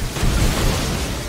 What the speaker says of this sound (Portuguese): Vocês estão vendo o tanto de explosão que ele causa?